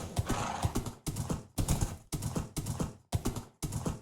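Horse hooves clip-clop in the Minecraft video game. Regular bursts of hoofbeats repeat about every half second, close and fairly loud, with no talking over them.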